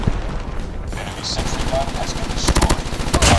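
Rapid automatic gunfire from Call of Duty Mobile play, loud and continuous with bursts intensifying toward the end, heard under a player's excited talk.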